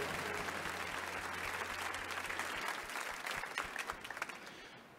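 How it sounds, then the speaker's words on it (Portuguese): Congregation applauding Our Lady during a church patron-saint festival as her image is welcomed; sustained clapping from a sizable crowd over a low hum, thinning into scattered individual claps toward the end. "Palmas a Nossa Senhora, alegria e motivação na ação pastoral."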